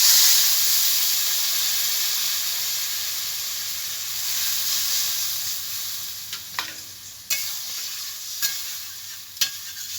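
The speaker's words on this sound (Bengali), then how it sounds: "আলুটা ভাজা হয়ে গেছে, আমি জল দিয়ে দেবো।" Fried potatoes for a silver carp curry with eggplant hiss loudly in a hot pan as water is poured in. A dense, steady sizzle slowly eases, with a few sharp clinks and stirring knocks near the end.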